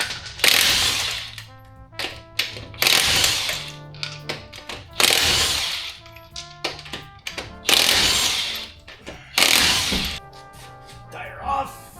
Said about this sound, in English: First things first, we're going to pull the tire off.